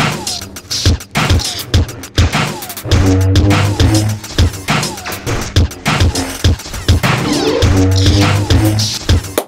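Music built from Star Wars sound effects, with lightsaber hums as a pulsing bass line under crashing, clattering percussive hits and layered effects, loud and dense throughout.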